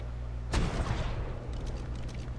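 A cannon fires in the survival game ARK: Survival Evolved, one sharp booming blast followed by a rumbling decay and faint crackling debris, standing out over low background hum, with no talking.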